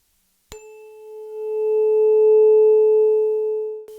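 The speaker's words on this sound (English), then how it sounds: "It's a 432 Hertz tuning fork" A 432 Hz tuning fork is struck once, then rings as a pure, steady sustained tone that swells slightly and holds for about three seconds before being cut off, with no talking.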